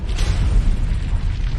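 A deep, continuous rumbling explosion effect for the planet Venus blowing apart, its basalt crust flung outward; a loud low roar sustains without a break and carries no speech.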